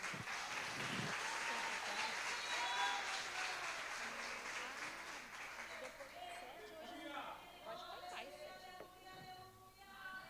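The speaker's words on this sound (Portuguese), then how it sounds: "Receba a serva do Senhor com palmas." Church congregation at a women's conference applauding a speaker as she is welcomed to the front, a dense, loud wash of clapping that gradually thins, with voices and a few cheers mixed in.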